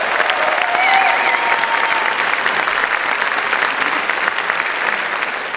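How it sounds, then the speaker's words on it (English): A crowd applauds a women's choir in Olympia, Washington, with loud, dense clapping that holds steady for several seconds and tapers slightly at the end. "We have got these fantastic women's choir. Can we give them a great round of applause?"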